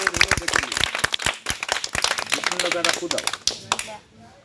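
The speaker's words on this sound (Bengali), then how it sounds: "বাবা তালি মারো তো দেখি" Hands clapping in quick, uneven bursts during a street magic show, sharp claps repeating for several seconds and then stopping, with voices talking over them.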